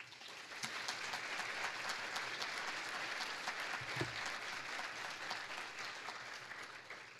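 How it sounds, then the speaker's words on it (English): Soft, continuous applause from the audience at a 2011 Phi Beta Kappa ceremony, a dense wash of many hands clapping evenly, heard at some distance and fairly quiet throughout. "For that, you deserve a round of applause."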